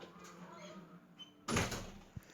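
A door is pushed shut indoors, a single sharp swoosh and thud midway through, followed by a small knock against a quiet room.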